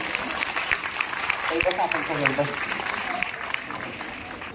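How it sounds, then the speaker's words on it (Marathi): Audience applause at a BJP-organised garba workshop in ward nine of Nashik: steady, dense clapping from a crowd with a voice carrying over it throughout. "एकदा हात वर करून सगळ्यांना सांगा टाळी वाजवून"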